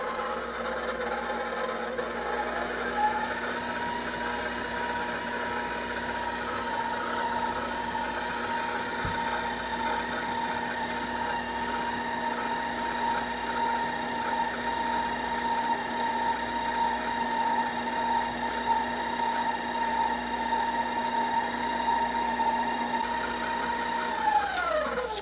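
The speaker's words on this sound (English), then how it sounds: "Let's just mix this until it starts coming together" Challah roll dough being mixed in a large bowl as water is gradually added, giving a steady, continuous mechanical whir with a constant tone, then easing down at the end, with no talking.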